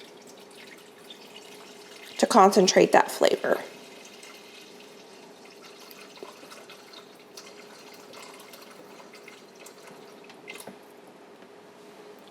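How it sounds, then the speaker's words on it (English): Broth from a cooking session pours and splashes into an Instant Pot in a short burst of liquid sounds, then settles into a quiet kitchen hum while a person talks. "I can pour this in here and I'm gonna let this reduce"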